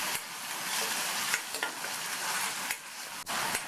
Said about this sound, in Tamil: இதில் கொஞ்சமாக உப்பு சேர்த்து இந்த தக்காளி மசிகிற அளவுக்கு வதக்கிக்கணும்